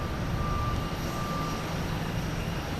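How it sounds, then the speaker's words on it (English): An Iberia Airbus A321neo from Madrid at Boston Logan Airport produces a constant, close jet engine roar with a thin steady whine riding on top, and no one speaks over it. "Here comes Iberia from Madrid"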